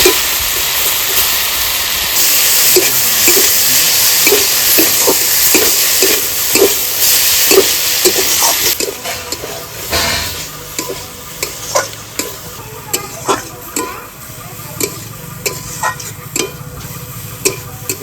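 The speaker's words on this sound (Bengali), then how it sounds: "তো ডাল দিয়েও কষিয়ে নিয়েছি" Greens sautéed with spices and chana dal in a pan for a dal-kalmi breakfast dish: a steady loud sizzle with repeated spatula stirring scrapes, the frying hiss easing after the first half while the stirring knocks carry on.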